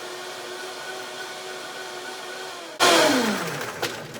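A blender whirs loudly as it crushes ice for a frozen peach daiquiri, starting abruptly after quiet background hum and then churning steadily with a slight drop in pitch as the mix turns slushy.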